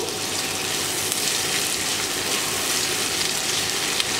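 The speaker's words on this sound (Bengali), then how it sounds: "লবণটা দেওয়ার ফলে খুব সহজে পেঁয়াজগুলো ভাজা হয়ে যাবে" Chopped onions fry with salt in a pan, giving a dense, steady hiss close by that holds level throughout with no voices.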